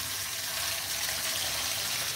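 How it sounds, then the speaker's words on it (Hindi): Tap water gushing steadily into a dog's bowl in a home kitchen, a continuous close splash with no talk over it. "तो गपूड़ी के लिए पानी भर दिया जाए दोस्तों"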